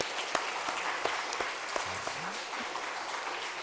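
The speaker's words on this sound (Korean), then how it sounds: "우리 찬양대 박수 한번 좀 쳐줘봐요." Church congregation at a Sunday morning service claps for the choir, a sustained crowd applause with sharp individual claps standing out, steady from start to end.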